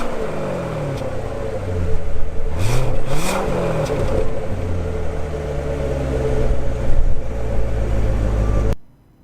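A 2017 Chevrolet Corvette Grand Sport with a naturally aspirated 6.2-liter LT1 V8 revs loudly up close, its engine note climbing and falling through several throttle blips over a steady idle rumble before cutting off.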